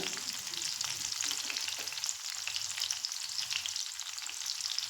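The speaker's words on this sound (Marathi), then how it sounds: "आता मिरची थोडी आपण परतून घेऊया." Green chilies sizzle steadily in hot oil, a dense continuous frying hiss with faint stirring scrapes underneath, close and even throughout with no talk.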